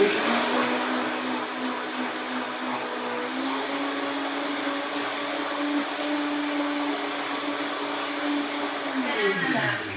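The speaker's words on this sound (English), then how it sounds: "And I'm just going to turn it on, mix it up." A blender whirs continuously at close range, mixing a protein coffee shake in a steady loud drone that winds down near the end.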